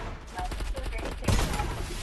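Rapid gunfire in an online shooter game rattles in a quick burst of sharp shots, fairly faint and compressed, with a heavier hit near the end.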